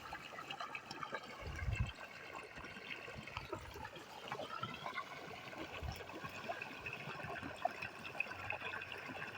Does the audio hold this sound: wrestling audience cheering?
no